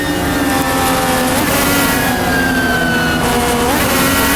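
Several race car engines in an IndyCar video game roar continuously at high revs, with rising and falling engine tones layered close together, steady and loud with no talking.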